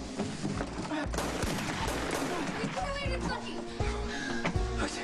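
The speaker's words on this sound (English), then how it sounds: "I don't even think they're shooting at us." Dense gunfire in a dark, tense scene from a TV drama, a continuous fusillade of rapid shots with machine-gun bursts and heavy booms, loud and close, with a voice briefly heard beneath the barrage.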